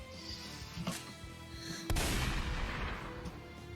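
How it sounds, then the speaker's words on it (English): A sudden explosion like a gunshot in the visual novel OZMAFIA, one sharp loud crack that decays into a rumbling tail, following quieter game ambience. "there was an explosion that sounded like a gunshot"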